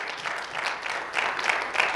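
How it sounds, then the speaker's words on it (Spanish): An audience applauds during a Christmas church sermon, a brief wash of many hands clapping in uneven surges, moderately loud and without speech. "Den un aplauso al rey de reyes."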